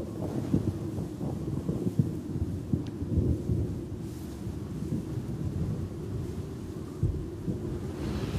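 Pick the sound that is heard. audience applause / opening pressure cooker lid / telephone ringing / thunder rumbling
thunder rumbling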